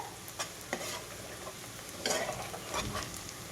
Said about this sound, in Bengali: মশলাটা আমি ভালোভাবে গুলে নেব।